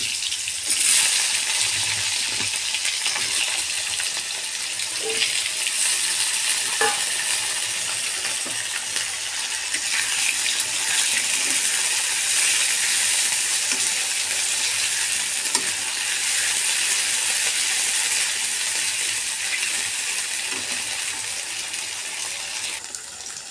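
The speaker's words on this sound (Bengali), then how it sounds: "আলুগুলো ভেজে নেব।" Potatoes frying in hot oil in a wok give a steady, loud, dense sizzle with faint stirring scrapes, continuous and close, with no talking.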